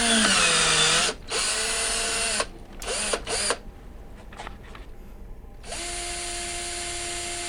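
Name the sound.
hand drill turning wood in dowel maker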